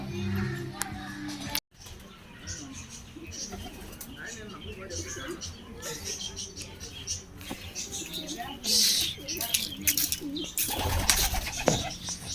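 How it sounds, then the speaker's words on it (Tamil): Pigeons at a temple coo softly amid rustling and fluttering outdoors, low murmuring calls running under a busy background while people talk at times. "கோவில் புறாக்கள்"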